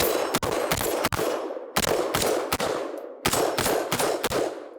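Rapid, close, loud shots from a Smith & Wesson M&P Sport 3 rifle in 5.56 with a mid-length gas system. The shots come in three strings of quick cracks with brief gaps between the strings.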